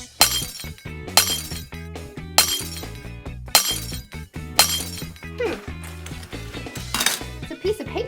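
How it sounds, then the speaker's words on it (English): Sheets of glass are smashed by people wearing safety goggles: about half a dozen sharp crashing impacts, each followed by tinkling, clinking shards, loud and close with short gaps between blows. "put on your safety goggles and break the glass"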